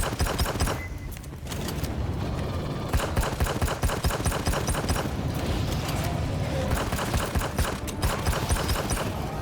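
Rapid, dense gunfire from a deployed weapon in the co-op shooter game AFE, played solo on Insane difficulty with bots, firing in steady close bursts that fill the whole stretch.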